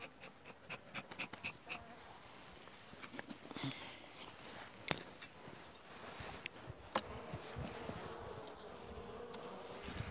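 Honeybees buzzing around an opened hive during inspection of a weak colony, a close, continuous droning swarm with passing louder fly-bys and light handling noises.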